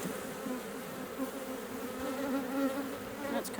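Honeybees buzz at an opened hive before winter, a dense, continuous droning hum from many insects, steady and fairly faint.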